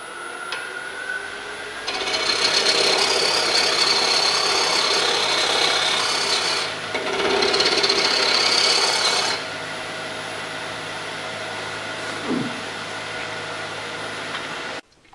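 Deer antler bowl turning on a wood lathe, a loud broadband raspy cutting roar in two long passes with a short pause between, then a quieter steady hum of the spinning lathe.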